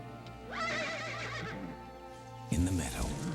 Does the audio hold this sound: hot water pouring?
no